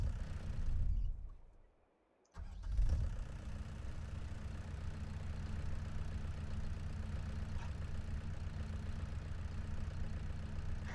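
In Farming Simulator 22, a tractor engine cranks in freezing cold, cuts out to a brief silence, then catches and settles into a steady, low, rumbling idle.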